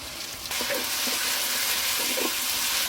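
Chopped onion and garlic paste sizzle in soybean oil, cooked outdoors on a riverside char, as a steady close frying crackle that starts abruptly and carries on without talk.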